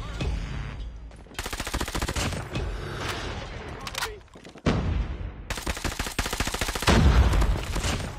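OTs-9 gun firing at range in a shooter video game, with rapid sustained automatic bursts separated by short gaps, loud and close.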